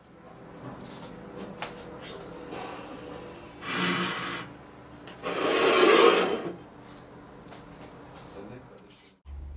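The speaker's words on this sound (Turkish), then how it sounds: "Biraz da üzerine limon kabuğu rendesi ekledim." Lemon zest being grated over a lemon cake with a glaze, heard as two short raspy rubbing bursts mid-clip against a quiet kitchen background.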